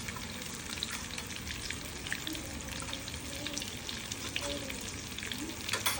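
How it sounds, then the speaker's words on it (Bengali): Pumpkin and potato chunks fry in a pan with bay leaf and five-spice seeds, giving a steady, close sizzle throughout, with faint scraping stir sounds and light clinks over the constant hiss. "এখন সবজিটা চাপিয়ে দিলাম, কুমড়ো আর আলু।"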